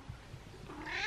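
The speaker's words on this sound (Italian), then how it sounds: "Gatta Stellina, cosa fai" A cat gives one faint, rising meow near the end of a short, quiet stretch indoors, alone without any talking.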